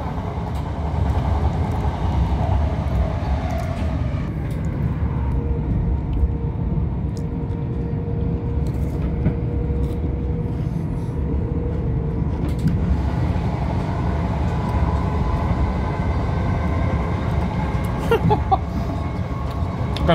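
Steady rumble of a Southern Railway train running along the tracks toward East Grinstead from inside a carriage, with a continuous low roar and occasional rattles.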